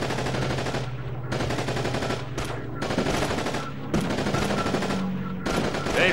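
Rapid machine gun bursts in the war shooter Call of Duty: Big Red One, several loud strings of automatic fire separated by short pauses, with battlefield shouting mixed in.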